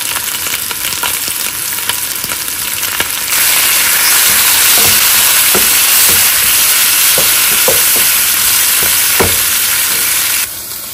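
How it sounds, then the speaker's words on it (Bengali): Shrimp fry in a hot pan with a loud, dense sizzle and scattered sharp crackles that jump noticeably louder a few seconds in, then drop back at the very end. "এখন এতে আমি দিয়ে দিচ্ছি কিছু শ্রিম্প।"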